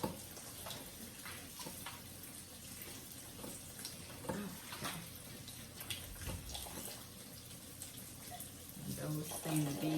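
Tap water runs steadily into a sink while vegan soul food ingredients are rinsed, giving a continuous soft hiss and splash with occasional clatter.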